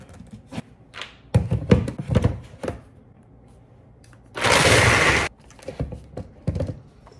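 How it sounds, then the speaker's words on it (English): A Beast blender whirs loudly for about a second in a kitchen, a steady dense roar standing out among scattered close taps, clatters and handling knocks before and after. "We have the Beast blender, so it just kind of goes on its own for a minute."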